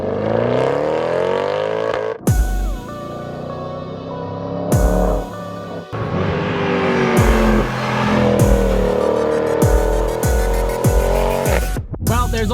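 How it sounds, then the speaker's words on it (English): Mercedes-AMG 6.2-liter V8 exhaust heard from inside the car, loud and close, with repeated hard revs and upshifts rising and cutting off, crackling between pulls. "the amount you hear the exhaust behind your head is actually ridiculous"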